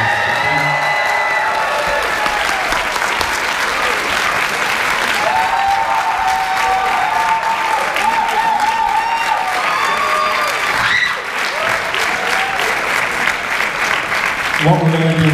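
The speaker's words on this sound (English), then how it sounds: "one huge round of applause to the graduating class" Loud, sustained applause with some cheering and whoops from the audience at a black belt graduation ceremony, with voices and tonal sounds over the continuous clapping.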